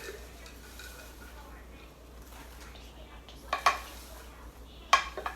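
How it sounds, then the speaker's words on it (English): Buttered popcorn being stirred in a bowl gives a low rustle with a few sharp clinks and scrapes near the end, close and fairly quiet. "Kind of stir around your popcorn."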